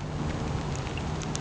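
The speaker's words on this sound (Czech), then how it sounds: "Pěkně za deště." Steady rain hisses and patters softly outdoors on the Wenatchee River, a faint continuous wash with a few scattered drops standing out.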